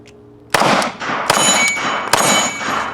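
Pistol rounds from a West German Sig Sauer P226 striking steel dueling tree targets, three sharp ringing clangs spaced under a second apart, each with a bright metallic ring that lingers, near and loud.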